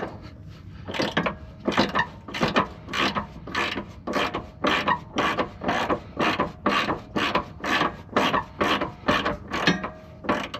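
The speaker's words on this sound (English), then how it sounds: "Turns out it's 18, so I have it on the 1/2-inch ratchet" A 1/2-inch ratchet turns an 18 mm bolt during a panhard bar install on an S197, giving a steady run of about twenty rhythmic, loud clicking rasps up close, with no talking.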